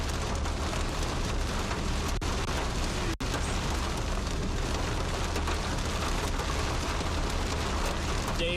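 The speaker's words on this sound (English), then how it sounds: "like you're taking a shower with hailstones falling on you" Hail and heavy rain pelt a camera during a severe storm, a dense, loud, continuous hiss with a brief cutout partway through.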